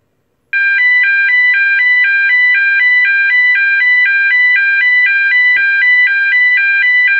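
A British standard high-low alarm tone alternates between two pitches every quarter second, steady and loud, starting abruptly after a moment of silence and continuing alone.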